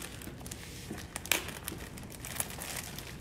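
Scissors snipping through the fur of a bobcat hide during a taxidermy table-mount job, giving faint crinkly cuts with a sharper snip near the middle, close up and with no talking.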